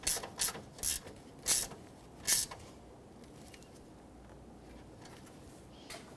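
A ratchet wrench snugs a bolt on a Nissan Frontier AC condenser, with five short, sharp ratcheting bursts close by, then near silence with a faint click at the end.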